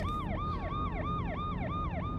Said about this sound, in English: the ambulance raced back to the hospital at full speed